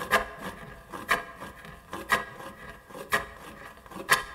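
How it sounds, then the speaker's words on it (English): A wooden guiro is scraped in a steady rhythm, one raspy stroke roughly every second, close and dry with quiet gaps between scrapes. "A guiro is a Caribbean percussion instrument, so you get this kind of sound."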